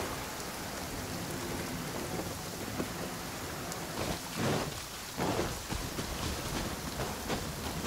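Thunderstorm in the video game Genshin Impact: steady heavy rain hiss throughout, with rolling thunder rumbles swelling midway and again near the end, no talking.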